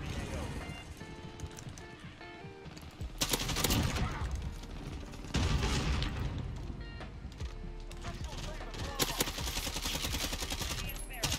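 Bursts of Galil rifle fire in the Modern Warfare video game, loud and repeated in several sustained volleys, with someone talking over the gunfire.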